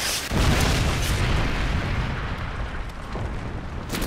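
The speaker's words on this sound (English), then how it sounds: "Friendly Predator missile inbound." A Predator missile strike in a shooter video game lands with a loud, rolling explosion whose heavy boom fills the opening moments and then decays into a long rumbling roar.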